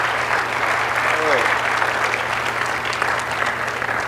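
Steady audience applause at a tech demo event in Calgary, a dense, even wash of clapping from a seated crowd that holds for the whole stretch without pause.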